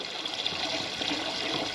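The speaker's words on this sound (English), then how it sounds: "Willis, you get ready to cut the water off?" Water runs in a steady, soft hiss, fairly faint and continuous with no voices, before the flow is shut off.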